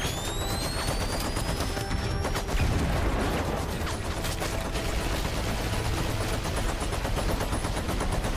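A flash grenade goes off during a video game firefight, a sharp burst near the three-second mark amid continuous loud gunfire and crashing effects that fill the whole stretch.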